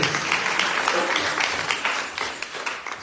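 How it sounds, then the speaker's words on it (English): Continuous audience clapping at a birthday celebration, a steady mid-level patter of many hands with slight swells and a gradual easing toward the end. "Let's give the birthday girls another round of applause"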